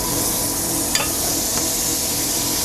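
Butter sizzles steadily in a frying pan, a close, even hiss with a couple of faint clicks from a utensil.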